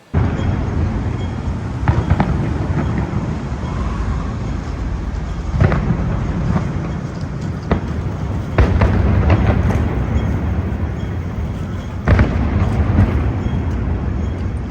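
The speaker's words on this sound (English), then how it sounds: "I didn't know when I got to Hong Kong that it was the Chinese New Year. And so they were having a fireworks display." Chinese New Year fireworks display in Hong Kong, with steady dense crackling and rumbling throughout and sharper bursts popping out at intervals, heard from a moderate distance outdoors.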